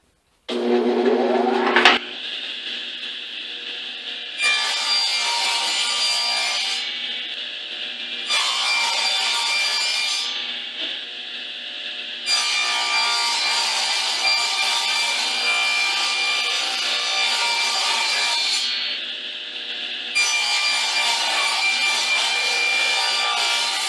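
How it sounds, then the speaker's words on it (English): A table saw, blade set about 1/8 inch high, cuts four thin plywood pieces one after another: loud, close whining bursts of cutting separated by short gaps of motor hum, with no talking. "So I'm just going to cut it with the table saw."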